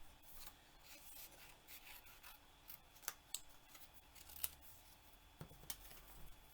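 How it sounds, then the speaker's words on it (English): Scissors fussy-cut a small piece of cardstock for a handmade card, giving quiet, close snips and paper rustles with a few sharper clicks of the blades. "And I'm just going to fussy cut this out."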